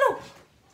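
A dog gives a single short, close bark that trails off into a faint whimper, with nothing else heard.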